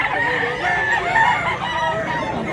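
A chorus of roosters crows without pause at a chicken market in Mantalungon, Cebu, layered calls from several birds blending into a constant, fairly loud wash.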